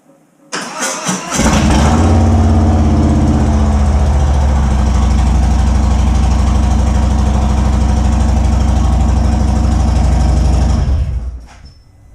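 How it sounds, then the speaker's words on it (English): A 2017 Harley-Davidson Street Glide motorcycle engine cranks and catches, then runs loud and raw with no mufflers, a harsh steady idle for several seconds before cutting off. "I'm gonna start it real quick with no muffler. No mufflers at all."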